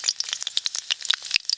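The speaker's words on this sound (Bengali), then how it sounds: "সর্ষের তেল, টকে ফোড়নের জন্য একটা শুকনো লঙ্কা আর 5 ফোড়ন দিয়ে দেবো" A dried red chili and five-spice seeds spluttering in hot mustard oil, a quick run of sharp, bright crackles and pops at close range.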